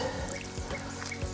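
Water poured into feeder fishing groundbait being mixed, a short, soft, close pouring trickle with gentle gurgles, faint and alone.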